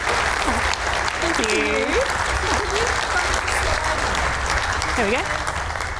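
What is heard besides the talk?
applause for a speaker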